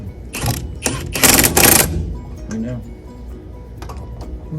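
An impact wrench driving chrome silver sockets during a 1980 GMC Jimmy rebuild gives several loud, close, rattling bursts in quick succession, then goes quiet while people talk.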